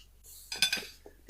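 Dishes and cutlery clink briefly during cooking, a short cluster of bright metallic taps and chinks at close range with no talking.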